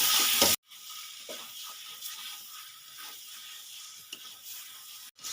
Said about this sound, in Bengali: চিকেনগুলো সব দিয়ে দিলাম এবার সুন্দরভাবে কষাবো